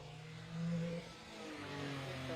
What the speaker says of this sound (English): Very noisy exhaust, that's for sure.